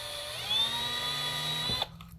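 Power drill boring out a rivet on a Porsche Boxster 981/718 convertible: a high, steady whine close by for nearly two seconds, then cutting off abruptly into quiet clicks and handling noise.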